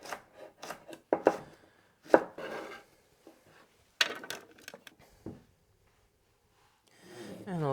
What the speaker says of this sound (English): So I'll do long strips first,